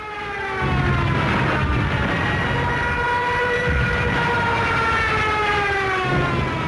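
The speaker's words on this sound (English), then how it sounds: "The German Junkers 87 dive bomber, nicknamed the Stuka and fitted with a screaming siren." A Junkers Ju 87 Stuka dive bomber's siren: a loud, continuous rising and falling scream dominates, with a roaring engine underneath, sustained without pause.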